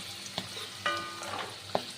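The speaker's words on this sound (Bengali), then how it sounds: "গ্যাসের ফ্লেমটাকে মিডিয়াম করে দিয়ে ভাজা করতে হবে" Cabbage and green peas frying in oil over a medium gas flame, a soft sizzle under a few sharp spatula taps against the pan, close and brief.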